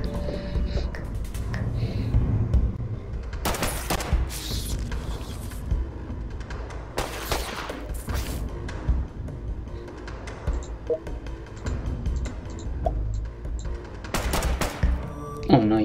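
Gunfire in the mobile game Fallout Shelter comes in several loud bursts of shots that stand out over constant game music and background effects.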